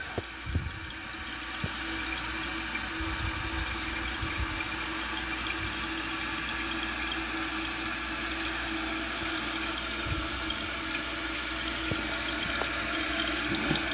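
Steady rushing of water refilling a toilet tank, a continuous hiss with low gurgling underneath, close by and unbroken.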